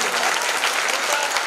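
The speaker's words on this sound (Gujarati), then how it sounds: "જોરદાર જોરદાર તાળીઓ પાડી" An audience at a school prize-giving bursts into dense, sustained clapping, a steady wash of many hands that holds at a loud level for the whole moment.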